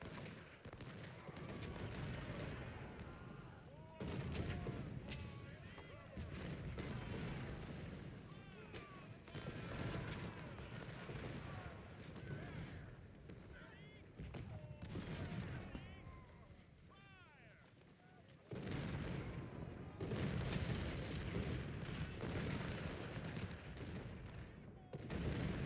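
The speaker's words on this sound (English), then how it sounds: "so many cannons behind us." Cannon artillery and musket volleys boom and crack repeatedly in the Ultimate General: Civil War game at the Battle of Antietam, a dense ongoing barrage of shots with rolling impacts, steady throughout.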